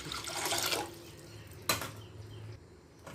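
Tap water pours into a vessel for ragi porridge, a close, splashing rush that tapers off, followed by a brief clink and a quieter trickle in a still kitchen.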